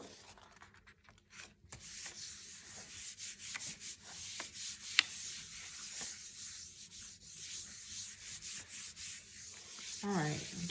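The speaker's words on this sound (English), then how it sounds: "gave that a good rub." Soft, rhythmic rubbing of paper pressed by hand onto a gelli printing plate, a steady series of quiet scuffing strokes with a few sharper brushes, close and faint with no talk.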